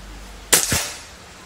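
A single sharp crack from a Marauder PCP air rifle, close and loud, with a brief thump and a quick decaying tail.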